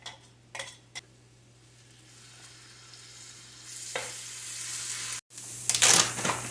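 Processed celery and onion sizzle and fry in a hot pan for a pork shoulder dish, a steady close hiss with a few brief clinks and stirring scrapes, swelling louder near the end.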